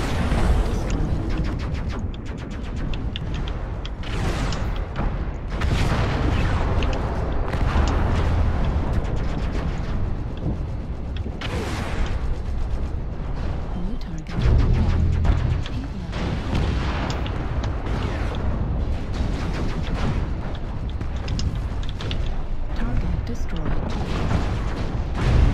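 Missile explosions in MechWarrior Online batter the scene with loud, dense booms and rumbling blasts that overlap almost without pause, heavy low-end impacts rolling on continuously, with a voice shouting over the barrage.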